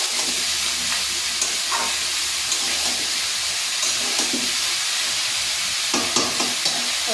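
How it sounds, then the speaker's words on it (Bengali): Bottle gourd tipped into a pan of prawns with green chillies, then stirred as it sizzles and fries steadily throughout, with scraping and clinks of a spatula against the pan. "চিংড়ি মাছের মধ্যে লাউটা দিয়ে দিলাম"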